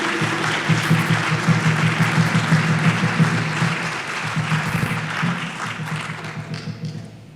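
Audience at a lecture at York College in Queens, New York, applauding in honor of Dr. Ron Daniels; sustained, dense clapping from a crowd that stays loud throughout, with a voice faintly present underneath.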